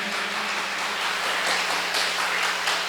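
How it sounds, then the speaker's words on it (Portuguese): Congregation at a Baptist communion service stands and applauds for Jesus: a steady, dense wash of many hands clapping together, moderately loud and even throughout, with no voices rising above it. "Queria que você ficasse de pé e desse um aplauso bem forte para Jesus."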